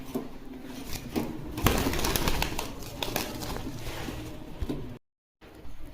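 A pair of ice bar Damascene pigeons coo with low, rolling calls, heard close over a soft rustling background. A short dropout of silence breaks the sound near the end.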